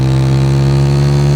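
A motocross motorcycle engine holds a loud, steady droning note with a strong buzzing hum, running continuously and close by with no voices.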